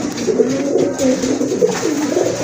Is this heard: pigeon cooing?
yes